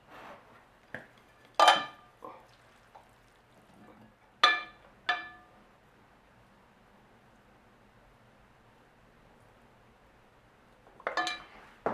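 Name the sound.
plating tomato rice into a separate dish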